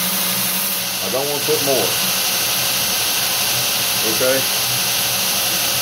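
A belt grinder runs steadily with light pressure on a knife-making jig, giving a loud, continuous broadband hiss and whir throughout while someone talks briefly over it.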